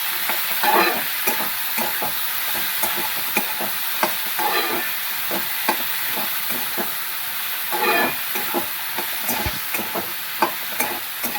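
Peas are stirred into a sizzling capsicum curry in a frying pan, a spoon scraping and clacking in repeated strokes over a continuous loud hiss of frying.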